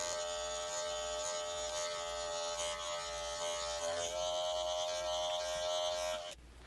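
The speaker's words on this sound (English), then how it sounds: "go back to my magic clip, open it up, and I'm going to work the lever" A Wahl Magic Clip hair clipper buzzes steadily and close during a haircut, with a brief shift in pitch partway through, then cuts off near the end.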